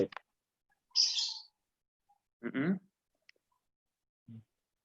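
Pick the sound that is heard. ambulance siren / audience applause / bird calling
bird calling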